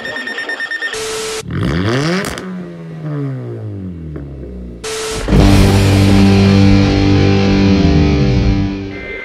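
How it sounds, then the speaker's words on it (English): A NOAA Weather Radio warning alarm sounds during a required weekly test broadcast: loud, brief steady tone bursts, each followed by harsh, distorted sweeping noise. "This is a test of the no weather radio warning alarm device for WWH-33."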